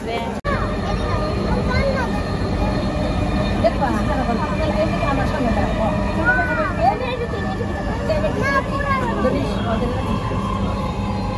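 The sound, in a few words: passenger train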